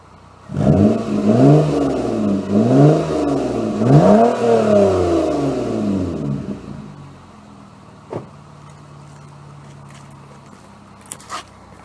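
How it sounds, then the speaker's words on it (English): A Toyota car with an aftermarket exhaust revs several times in quick rising and falling pulls, loud and close, then settles to a low idle with a few faint clicks afterward. "I'm just gonna give it a little rev so I'll let you guys hear it again."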